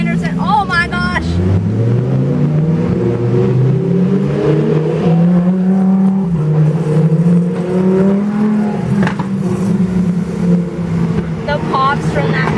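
A Lamborghini revs inside a tunnel, its engine climbing and falling in loud, sustained sweeps with crackling exhaust pops, while people talk and shout excitedly over it throughout.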